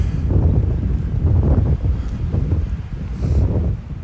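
Strong wind buffets the microphone outdoors on a walk along a city avenue in spring, a loud continuous low rumble with gusty swells throughout and no voices.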